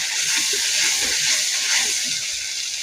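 Sliced green chilies hitting spice masala in a pan with bay leaf and small cardamom, a steady broad hiss of frying held at an even level throughout, close, with no voice.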